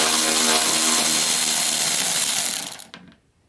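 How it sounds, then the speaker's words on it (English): A power tool whirs loudly and continuously while removing a bumper cover bolt on a Hyundai Elantra, the rattling mechanical drone running close up for nearly three seconds before spinning down and stopping abruptly. "there is that same bolt right over here. So I'm gonna remove it."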